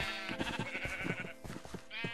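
Sheep in Minecraft bleating: several short, nasal, wavering bleats in quick succession, clear and close with no talking over them.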